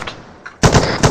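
Bursts of machine gun fire in the Arma military shooter, a squad training firefight, starting loud and sustained partway through after quieter, more distant shots.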